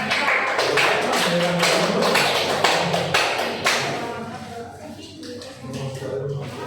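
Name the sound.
classroom applause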